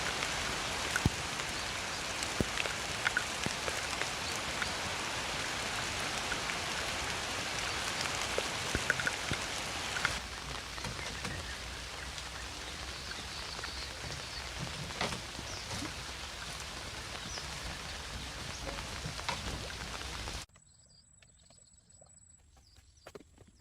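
Heavy rain pounds steadily on a floating bamboo cabin built on plastic drums, a dense hissing patter that eases slightly midway before cutting to near silence at the end.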